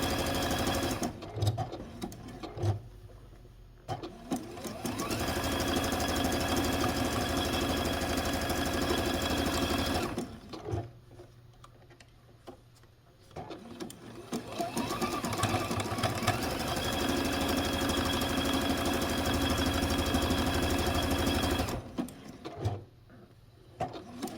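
A domestic sewing machine stitching a flower appliqué onto a quilt block runs in long steady whirring bursts, pausing briefly between seams, loud and close.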